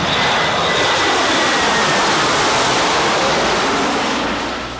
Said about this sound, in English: Their words were often drowned out by the armada of transport planes